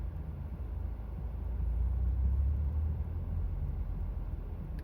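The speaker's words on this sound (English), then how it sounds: "there's more and more cars showing up now." Cars pulling in nearby at a rugby ground, heard as a steady low engine rumble that swells slightly in the middle and stays continuous, with no talking.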